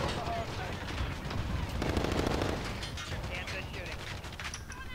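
Gunfire in Call of Duty: Modern Warfare with a Grau 5.56 rifle, heard as rapid automatic bursts and mechanical clatter amid dense game noise, with a voice talking over it.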